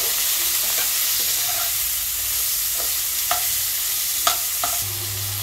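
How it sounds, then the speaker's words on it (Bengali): Chopped vegetables seasoned with turmeric and salt fry and get stirred in a pan for a fish curry, with a steady broadband sizzle and a few soft utensil scrapes and taps throughout. "দিয়ে আমি এগুলোকে ভালো করে ভাজা করে নিচ্ছি।"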